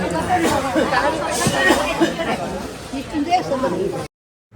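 Dense crowd chatter fills a busy whole-spice shop in Koynad market's chilli lane, many voices overlapping in a steady close hubbub with occasional louder nearby talk, ending abruptly.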